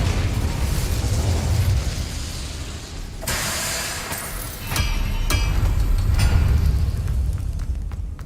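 Incendio fire spell from Hogwarts Legacy erupting in a loud burst of roaring, crackling flame, followed by a few sharp pops and hissing as it dies down.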